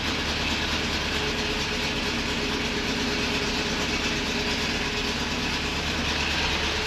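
A hardtop convertible Chevrolet Corvette C8 idles while warming up, a loud, steady, unbroken engine rumble heard close for the whole stretch.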